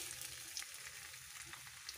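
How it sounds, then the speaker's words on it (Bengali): Three medium onions fry in oil in a kadai for chicken biryani, a faint, steady sizzle with a soft crackle throughout and no talking. "এবার আমি পেঁয়াজটা ভেজে নেব।"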